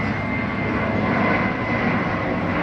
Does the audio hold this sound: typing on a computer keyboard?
no